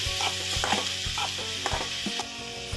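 Chopped tomatoes fry in a pan for a bread roast, a steady close sizzle broken by a few louder stirring clanks of the spatula, with no voices.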